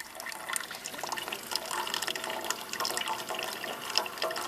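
Hot water flows from a coffee brewer in a steady, close stream of splashing and trickling with small drips throughout.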